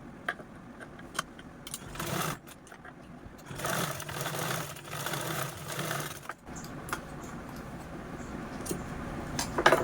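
A sewing machine stitches the handle of a small cloth bag, running in a steady, close whirring burst of about four seconds mid-clip, framed by lighter clicks and handling noises.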